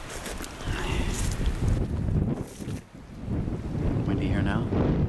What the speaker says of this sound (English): Windy here now. Wind shifted.